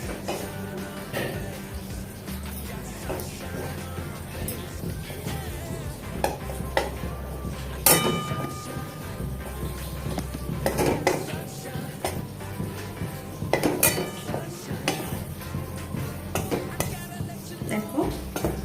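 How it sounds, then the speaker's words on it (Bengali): Gram flour (besan) is stirred and dry-fried in a pan for paneer tikka, with continuous scraping of a spoon against the pan, occasional clinks and a faint sizzle while a person talks. "বেসনটা ভাজছি, হালকা একটু ব্রাউনিশ হবে"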